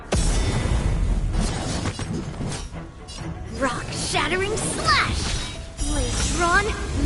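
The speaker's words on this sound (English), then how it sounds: "Rock-shattering slash!" Rock-shattering slash attack in Honkai: Star Rail, a burst of crunching, grinding shatter and metallic scraping impacts with swooshing sweeps, over a character voice and backing music, loud throughout.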